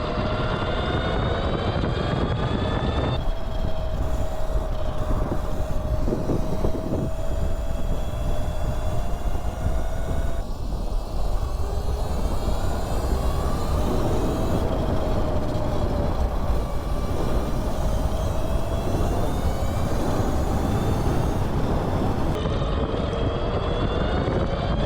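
A modified mini bike engine runs at speed, a continuous buzzing drone that rises and falls slightly in pitch with throttle changes, steady and fairly loud for the whole stretch with no talk.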